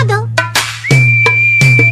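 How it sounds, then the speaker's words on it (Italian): A person whistles a single sustained, steady tone for about a second, close and fairly loud, amid brief bursts of other sound and a constant low hum. "ma come si fa a fischiare?"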